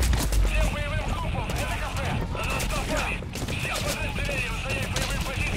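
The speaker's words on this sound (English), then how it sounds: "I'm just trying to shoot these tanks" Weapon fire and booming blasts in Metal Gear Solid V while a rocket launcher is aimed at tanks, a dense stretch of shots and explosions with a player talking over the top.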